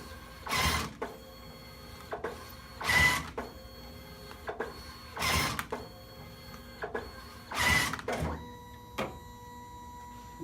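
A DNP thermal photo printer resets and trims scrap paper, giving four evenly spaced mechanical bursts of whirring and cutting, each about half a second long, separated by quiet gaps with faint motor hum, close by and moderately loud.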